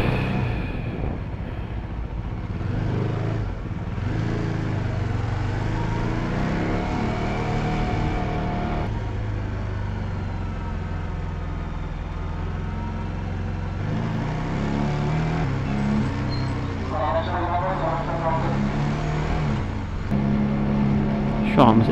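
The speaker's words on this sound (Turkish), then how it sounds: "Şöyle gazı bırakıp tekrar açtığımda motor böyle çok sert tepkiler veriyor." Engine of a CFMoto 250NK motorcycle in second gear, snapping sharply back and forth as the throttle is closed and reopened, a steady close drone with surges under wind noise and a rider talking throughout.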